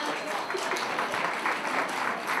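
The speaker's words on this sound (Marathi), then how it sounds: "सर्वांनी टाळ्या वाजवा." An audience at a felicitation ceremony applauds, a dense, steady wash of many hands clapping together throughout, fairly close and loud.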